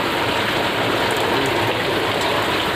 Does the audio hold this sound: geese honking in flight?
no